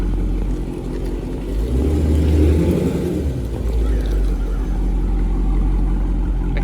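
A Dodge Challenger 1320 with a loud Corsa exhaust pulls up close by, its deep, rumbling low-end drone swelling briefly before settling into a steady idle burble.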